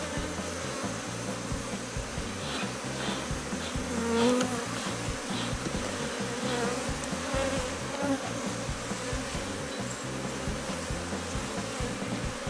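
Honeybees buzz steadily around an open beehive while the colony is being divided, a dense, continuous drone that swells briefly near the middle, with no talk.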